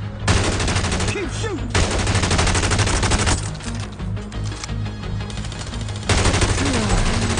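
Gunfire in The Division Resurgence mobile game: loud, dense bursts of automatic rifle fire in long rattling volleys, with short gaps between bursts, layered over the game's background sound and no speech.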